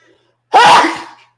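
One loud, close sneeze, a sudden explosive burst that trails off over about half a second.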